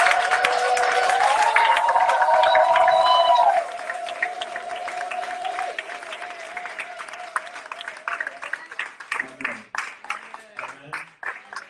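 A church congregation applauds and acclaims Jesus Christ during a Sunday worship service, with sustained clapping and cheering voices joined by a held sung or shouted tone, then the applause thins into scattered claps.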